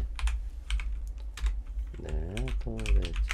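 Fingers type on a computer keyboard while working in Clip Studio, giving a run of crisp, close key clicks in an uneven rhythm; a tonal, voice-like sound rises and falls over the later taps.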